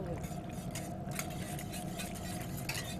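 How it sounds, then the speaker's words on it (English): A whisk scrapes and clinks rhythmically against a skillet as sauce is stirred in for pork tenderloin, with faint sizzling underneath and a person talking over it. "Now whisk that in here."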